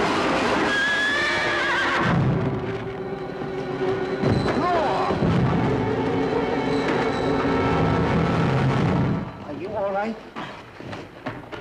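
A frightened horse in a Western town lets out loud, repeated whinnies close by, with thumps and a hoof clatter, while people talk over and between the neighs.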